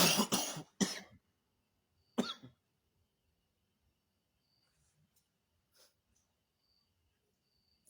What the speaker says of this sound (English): So I'm having cough.